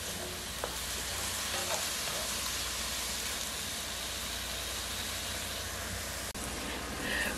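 Pork frying in a pan with its liquid cooking down while vegetables wait for rice, a steady close sizzle and hiss that continues evenly, with a brief stir or knock near the end.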